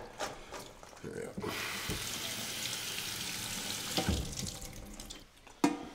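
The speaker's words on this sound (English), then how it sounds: "just give them a wee rinse with it under the tap in a colander" Tinned borlotti beans rinsed in a colander under a running kitchen tap, a steady broadband water rush lasting several seconds, with soft clatter before and after and a sharp knock near the end.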